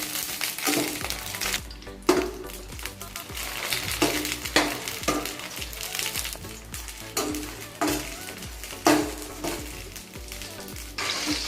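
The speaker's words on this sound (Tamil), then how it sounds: "4-5 கத்திரிக்காய் லைட்டாக கட் பண்ணி ஆயிலில் ஃப்ரை பண்ணி எடுத்துக்கோங்க" Lightly cut brinjal pieces frying in oil in a kadai for a brinjal curry, a steady close sizzle with stirring scrapes and occasional clinks of utensil on pan throughout, with faint music underneath.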